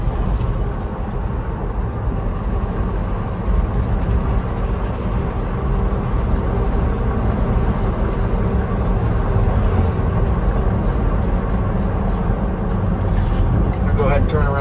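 A 1968 Ford F-250 Highboy 4x4 pickup with a four-speed manual drives along a road, a steady, loud, unbroken engine and road drone heard from inside the cab.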